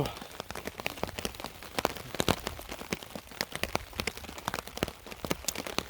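Rain pattering on a tarp at a dispersed campsite in Michigan, irregular close drops tapping sharply over a soft steady patter, with no voices.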